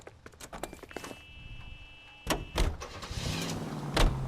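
A car pulling away in the L.A. Noire video game, with a rising engine and rumble surging in after door and footstep clatter, fairly close and loud, no talking over it.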